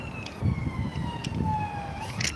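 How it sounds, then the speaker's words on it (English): Siren of an ambulance passing along a city street, a steady high wailing tone slowly sliding down in pitch as it goes by, over rumbling traffic noise. "Comes a policeman, I think. Or is it an ambulance?"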